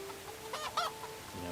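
Geese in the Medieval Dynasty video game give a few short honking calls in the middle of a soft ambient background, with a low steady hum running underneath throughout.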